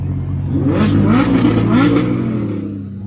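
A car engine revs loudly and steadily for a few seconds at a hypercar show in Raleigh, North Carolina, rising and falling in pitch, close by, with no talking over it.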